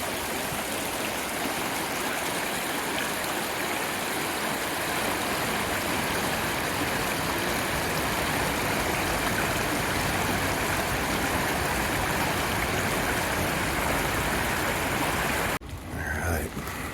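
River water rushes loudly and steadily from close by, a dense wash of flowing stream noise that holds constant for most of the stretch before briefly dipping near the end.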